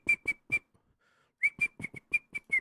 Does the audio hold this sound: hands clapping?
no